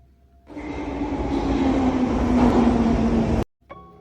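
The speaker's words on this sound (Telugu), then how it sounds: "ట్రైన్ వచ్చింది." A metro train pulls into a nearly empty station late at night, a loud steady rumble with a rising wheel whine that builds for about three seconds before cutting off, followed by a faint hum.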